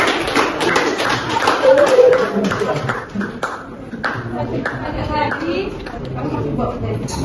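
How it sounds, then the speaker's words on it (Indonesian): A classroom of tenth-grade students claps for a classmate during an Islamic religious education lesson. The applause is a brief, scattered burst of hand claps mixed with chatter and a teacher's voice. "tepuk tangan."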